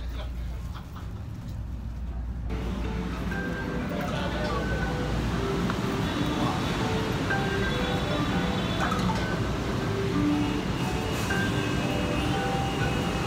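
Steady rumbling of a moving train from inside the carriage, with a continuous low drone and faint clatter filling the whole stretch, and voices murmuring underneath.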